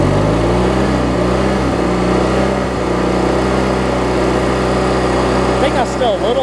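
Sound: Briggs opposed twin engine on Craftsman mower, throttle raised

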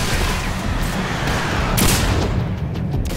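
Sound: missile launcher firing missiles in video game Singularity

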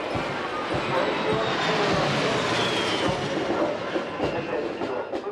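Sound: military aircraft flying over a parade

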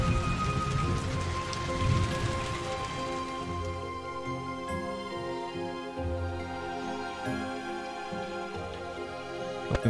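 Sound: rain falling in video game Kubifaktorium

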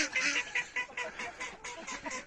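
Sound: chickens in the yard

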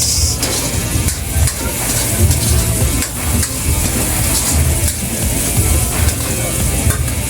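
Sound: garlic, onion and ginger sautéing in a pan

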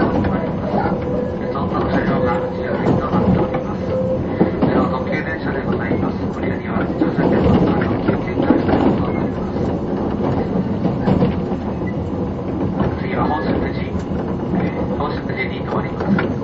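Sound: JR 185 series limited express train running

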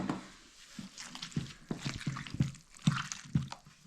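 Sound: squeezing peeled peppers to make paste

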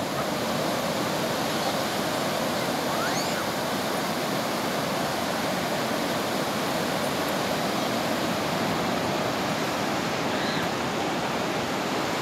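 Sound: ocean waves breaking on beach

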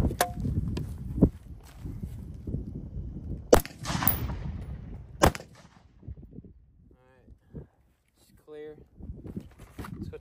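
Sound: rifle shots hitting a steel brake drum

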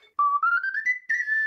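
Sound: DIY death whistle, a vessel flute, being blown

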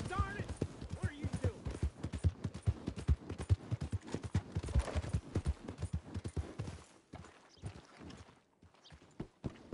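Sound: horse hooves clip-clopping, from the video game Red Dead

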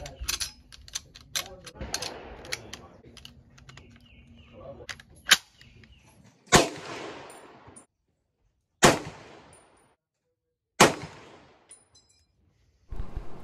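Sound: M1 Garand rifle shots

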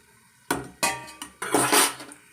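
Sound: turning aloo coconut bondas in the frying pan

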